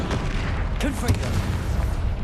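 Fire spell blasts in Hogwarts Legacy, a run of booming explosions and gunfire-like bursts from the game, dense and loud throughout with a voice speaking over them.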